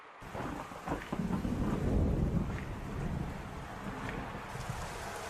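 In a cartoon football match, a deep rumble of thunder rolls in and swells over steady rain and wind, then fades back to a continuous rainfall hiss.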